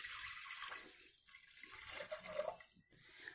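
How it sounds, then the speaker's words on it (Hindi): Water poured from a vessel into a pressure cooker sitting on a gas stove, about one litre for sambar, giving a steady hissing splash with a faint rising gurgle near its end, heard alone. "इसमें 1 लीटर पानी डाल देते हैं।"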